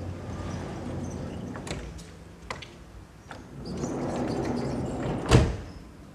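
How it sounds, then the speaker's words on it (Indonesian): The sliding door of an Isuzu Elf NLR 55 BLX minibus rolls along its track with scattered clicks and knocks, ending in a loud close thud near the end. "Kita lihat secara langsung detailnya seperti apa pintu slidingnya."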